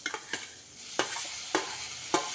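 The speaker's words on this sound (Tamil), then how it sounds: "இப்போ இந்த ஸ்டேஜில் நம்ம தக்காளியை போட்டுடலாம்" Tomato dropped into a pan of sizzling ridge gourd kootu, a soft hiss broken by several sharp stirring clicks and scrapes of the spoon against the pan, close up.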